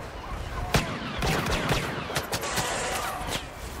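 Blaster fire in the video game Star Wars Battlefront, a quick series of sharp zapping shots in irregular bursts over a continuous busy background, fairly loud and close.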